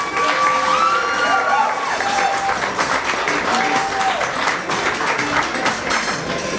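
A school crowd claps and cheers in a dense, lively wash of applause with scattered shouts and whoops from children, sustained throughout at close range.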